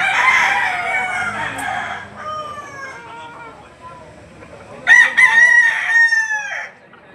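A rooster crows twice among chickens offered for sale at a market, loud and close with a long drawn-out call, while other fowl cluck faintly and a voice speaks in the background.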